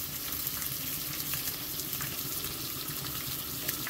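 Chopped carrots frying with scrambled egg for fried rice, a dense continuous crackling sizzle at even volume, close and steady with no voices.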